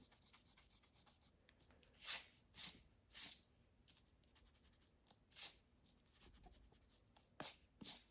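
A pencil eraser rubs across a paper drawing to remove pencil lines, several short scratchy bursts in uneven strokes, close and fairly quiet, with no speech.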